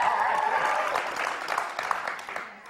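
Studio audience cheering and clapping in a dense, steady wash that swells, then tapers off toward the end, loud and close with no clear talk over it.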